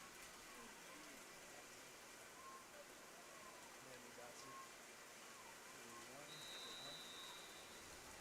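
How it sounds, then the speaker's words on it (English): Rain patters on microphones at an outdoor stadium during a women's U18 football championship game, a faint, steady hiss of drops with a few muffled voices in the background. "You can hear the rain echoing off our mics."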